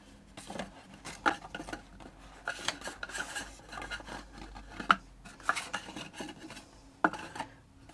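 Cardstock folded by hand into alternating valley and mountain folds for a bay window card gives close, irregular rubbing, creasing and scraping sounds with occasional sharper snaps, no talk.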